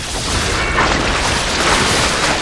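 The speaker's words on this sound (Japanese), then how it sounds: "爆発すんのこれ" A corrosive slime bursts in the soulslike game Lies of P, giving a loud, sustained, noisy explosive roar that fills the whole clip evenly, with no voices over it.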